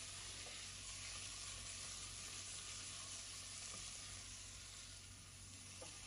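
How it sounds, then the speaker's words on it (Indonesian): Chicken pieces fry in a nonstick wok, giving a loud, steady, close sizzle with occasional faint scrapes of stirring throughout, no talking. "silahkan tambahkan ayam terlebih dahulu. Nanti aduk dulu, masak sebentar sampai nanti kulit ayamnya berubah warna"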